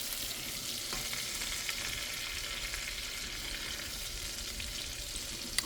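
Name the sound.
ribeye steak frying in a pan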